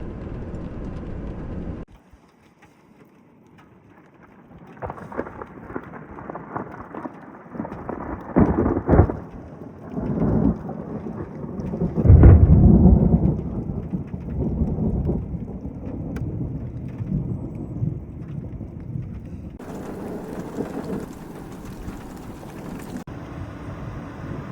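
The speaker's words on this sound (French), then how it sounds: "ça a lâché quelques impacts de foudre qui ne sont pas visibles en vidéo parce que c'était beaucoup trop rapide et trop lumineux" A thunderstorm with lightning and hail rolls over Mont Mézenc in Ardèche. Deep rumbles of thunder swell and fade across the middle, peaking in a heavy crash near the centre, over a steady wash of rain and wind with no talking.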